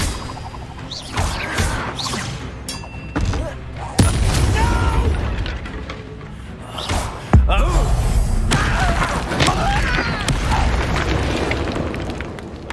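Spells cast in the Hogwarts Legacy video game, Confringo and Expelliarmus, produce loud booming blasts and bursts amid dense, continuous battle effects.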